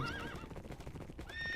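A Minecraft horse neighs with a high wavering whinny, then soft clip-clop hoofbeats follow before a second whinny rises at the end, all close and clear with no talking.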